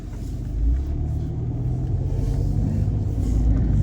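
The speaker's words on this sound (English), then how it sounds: "Now let's go take a drive around the neighborhood." A car cruises through a residential neighborhood in Bloomington, Minnesota, heard from inside as a steady low engine rumble and road noise with no talking.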